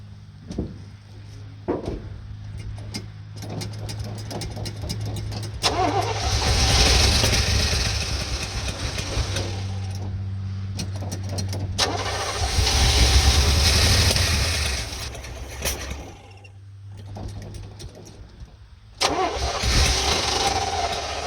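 An old field-find vehicle engine, its carburetor drained and refuelled, cranks and catches on its first start. It then runs in loud, rough, sustained stretches with brief drops between bursts, close to the mic.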